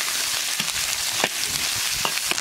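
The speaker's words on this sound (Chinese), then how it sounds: "把肉末炒一下。" Minced pork stir-fries in a hot wok with oil and aromatics, a close, continuous hissing sizzle punctuated by quick scraping stirs of a spatula.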